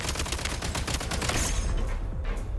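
Rapid gunfire from aiming and shooting in Genshin Impact, a dense burst of repeated shots at a fast steady rhythm, loud and close, that fades out after about two seconds.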